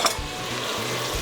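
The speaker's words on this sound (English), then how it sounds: "we're gonna stir that up" Grated ginger stirred in a sizzling pot for a chicken curry soup with chickpeas and coconut milk gives a brief steady frying hiss, with a faint spoon knock at the start, close and without speech.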